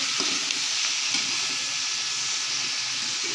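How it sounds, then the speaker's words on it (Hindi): Sliced potatoes and carrots fry in a hot pan with oil, giving a steady, close sizzle and hiss with occasional soft stirring clicks, no voices over it. "ये हम इसको हल्का सा थोड़ा सा भुनेंगे, थोड़ा सा ये तलेंगे तकरीबन 5 मिनट तक"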